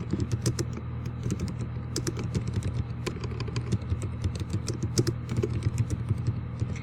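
Continuous typing on a computer keyboard while entering a title into a spreadsheet, rapid irregular key clicks close by over a steady low hum, with no voices.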